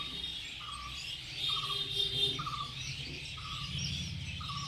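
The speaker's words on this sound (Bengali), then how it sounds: "এখানে একটা শালিক বসে আছে" Outdoors on an afternoon, a myna gives short, regular call notes repeated about once a second over a soft background hum of insects.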